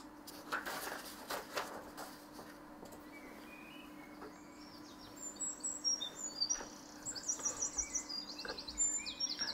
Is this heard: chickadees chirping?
yes